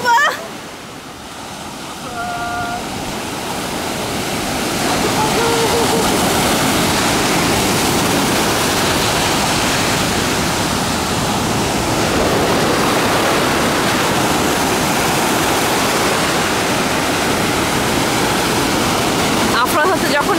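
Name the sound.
ocean waves crashing on the beach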